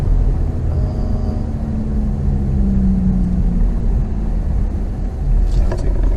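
Car driving through the town center of Montauk, a steady low engine rumble and road noise close by, with no talk over it.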